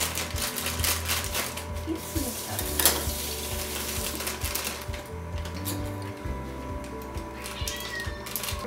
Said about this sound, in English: stir brownie mix